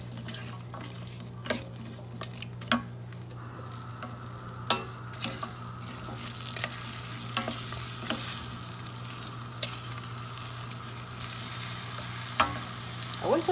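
Chicken for a jollof rice meal fries in a pan with a steady sizzle and crackle, while a utensil stirs and taps against the pan in scattered clicks, close and with no talking.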